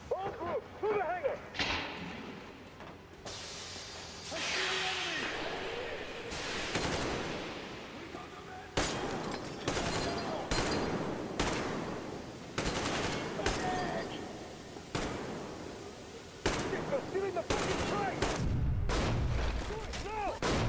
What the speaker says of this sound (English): I was wondering if that was explosions